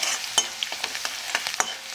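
Crushed garlic sautéing in oil over a medium gas flame for methi bhaji, with a soft, steady sizzle broken by repeated scraping clicks of a spoon stirring the pan, close and moderately quiet.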